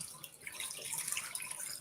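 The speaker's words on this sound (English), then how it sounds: "I'm going to pour this into this" Liquid marinade pours onto chicken being pre-cooked for Thanksgiving, making a faint, steady splashing trickle throughout.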